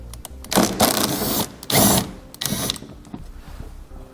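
Several 10mm bolts come out of the underbody covers on a 2012 Toyota Highlander, with three loud whirring mechanical bursts from a powered ratchet or driver, each about half a second to a second long, separated by brief pauses.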